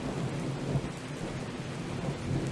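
Thunder from a lightning strike rolls through steady heavy rain in the storm-chasing game Outbrk, a loud continuous rumble and hiss with no break.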